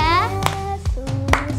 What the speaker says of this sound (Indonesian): Coba sekarang semuanya kita mau tepuk tangan di atas kepala ya.